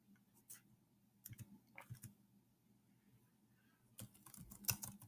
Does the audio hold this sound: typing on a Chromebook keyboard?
yes